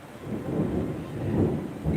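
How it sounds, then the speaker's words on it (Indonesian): Thunder from a storm rumbles low and continuous, swelling and fading over a couple of seconds with a fresh surge near the end, moderately loud and heard alone. "Ini suara geledek, sorry ya kalau kedengeran ya."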